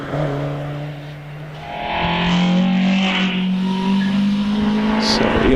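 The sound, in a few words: Alfa Romeo 75 racing in hillclimb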